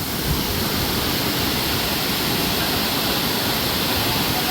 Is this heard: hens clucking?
no